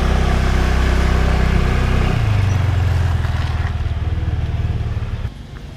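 Motorbike riding on a road in Thailand, its loud, close engine droning steadily, the pitch shifting down partway through as it settles into a lower, throbbing run before easing off at the end.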